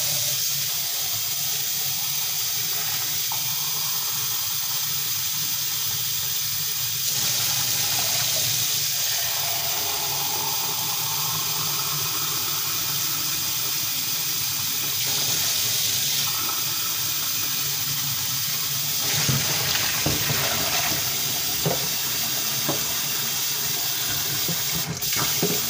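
Cold water runs from a kitchen tap while Kenyan pilau and beef stew are being cooked, a continuous close hissing gush that lasts the whole stretch with slight shifts in flow and occasional clinks, no talking.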